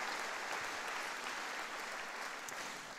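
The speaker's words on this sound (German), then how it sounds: "wir geben Jesus mal einen mächtigen, gewaltigen Applaus" A church congregation applauds steadily and loudly throughout, with dense, continuous clapping filling the space during a Sunday service.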